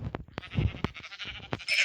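Sheep in a blocky sandbox-style video game bleat in several short, sharp cries one after another, close and clear, with brief gaps between them and a hissing burst at the very end.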